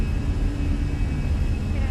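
Airliner engines at takeoff power in a flight simulator, a steady loud broadband roar with a faint whining tone above it, continuous throughout.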